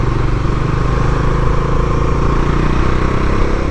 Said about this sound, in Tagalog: So gamit nga pala nating motor ngayon, Dominar 400 UG2.